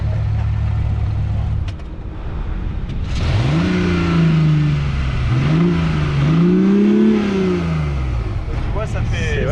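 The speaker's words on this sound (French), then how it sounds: "quand tu mets des coups de gaz" A BMW i8 hybrid sports car engine revs in short bursts, rising and falling in pitch over a steady idle rumble, loud and close, with someone talking over it.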